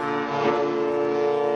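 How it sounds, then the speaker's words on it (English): A warship's horn in the naval game World of Warships gives a long, steady, deep blast that holds at an even volume throughout, with no speech over it. "Ooh, that horn!"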